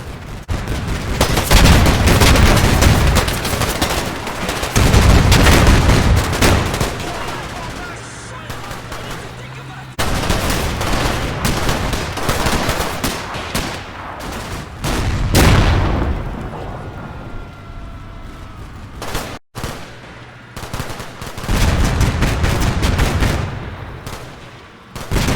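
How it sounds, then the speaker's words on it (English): Heavy gunfire from a BMP-2 infantry fighting vehicle in the Combat Mission Cold War battle game, loud sustained bursts and booming impacts repeating across the whole stretch, with short lulls between volleys and an engine rumble underneath. "An immediate response from a BMP-2, following close from behind, lets fly into the undergrowth as it drives around the disabled main battle tank."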